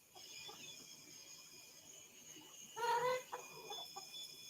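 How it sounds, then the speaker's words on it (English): Chickens clucking at a cabin, soft scattered clucks at a distance over a quiet hiss, with one louder, brief squawking burst near the middle, no voices. "Her chickens are freaking me out."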